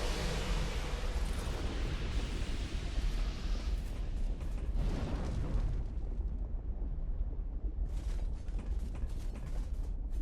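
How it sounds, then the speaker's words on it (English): Deep, rumbling explosions in the video game Dark Souls 2 roll continuously, with booming low-end impacts and crackling debris, loud and sustained with no voices. "I'm pretty sure I shouldn't open that door, given the explosions behind it."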